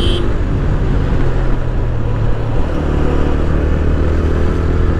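Continuous loud motorcycle engine drone and wind rush during a bike tour ride on a road, steady throughout with a slight shift in engine pitch partway, no talk.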